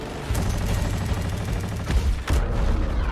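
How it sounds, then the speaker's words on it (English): Heavy machine gun fire in the Battlefield 2042 shooter, a dense, continuous rattle of rapid shots with a couple of sharper, louder bursts near the end, loud and close with no talking. "listen to how beefy that machine gun Hold on. sounds."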